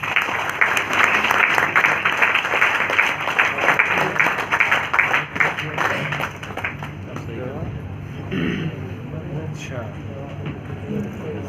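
An audience at a classroom-style teaching session breaks into dense, steady applause that holds for several seconds, then thins out into scattered claps and fades to room noise.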